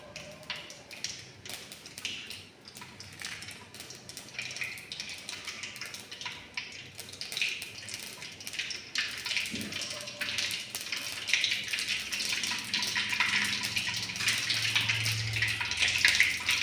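Mustard seeds splutter in hot oil, a dense and continuous crackling and popping that is close and steady, growing busier toward the end, with no talking.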